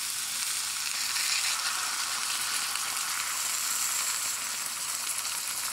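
Pollo asado with citrus seasoning sizzles steadily in a hot pan, a dense, even frying hiss that stays loud and close throughout, with no voices over it.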